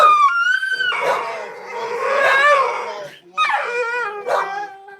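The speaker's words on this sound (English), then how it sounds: "They ain't gonna be able to hear you over these dogs." Several dogs bark and howl close by, with drawn-out wavering howls, yips and whimpers overlapping in a loud, continuous chorus that briefly drops away before starting up again.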